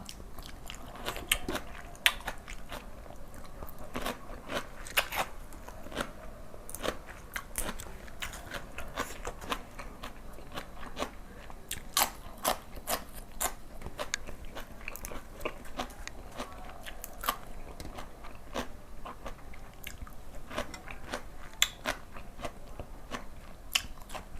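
Close, crunchy chewing and biting while eating spicy Thai lotus stem salad with fresh shrimp and stink beans, alongside leaves and morning glory, repeating steadily throughout with no talking.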